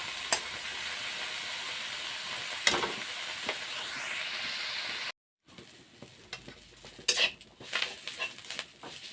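Leafy greens frying in hot oil with ground clove for a mashed relish, a steady close sizzle with scraping stirs and clinks of a utensil against the pan; a brief dropout midway, then quieter, patchier frying.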